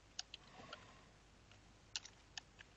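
Soft, faint keyboard typing as equations for chemical reaction differential equations are entered on a computer, with a few isolated key clicks spread out in quick, irregular bursts.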